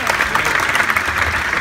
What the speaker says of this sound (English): they deserve big applause